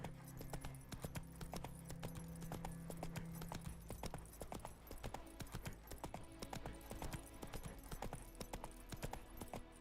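Hooves of the horse Roach clip-clop in a quick, regular trotting rhythm on a hard surface in The Witcher 3, the sharp strikes close and continuous throughout with a low hum beneath the opening seconds.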